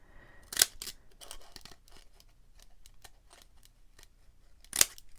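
Decorative scissors snip through paper several times, with two sharp, louder cuts standing out among quieter crisp snips close by.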